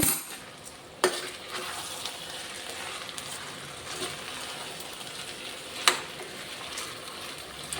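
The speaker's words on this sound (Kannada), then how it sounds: "ಈರುಳ್ಳಿ ಮತ್ತೆ ಕರಿಬೇವು ಸೊಪ್ಪು ಇದರ ಒಗ್ಗರಣೆ ಕೊಡೋದು ಆಮೇಲೆ ಇದನ್ನು ಚೆನ್ನಾಗಿ ಮಿಕ್ಸ್ ಮಾಡಬೇಕು" A steady sizzle of onions and curry leaves frying in hot oil, with a couple of sharp scrapes as the pan is stirred.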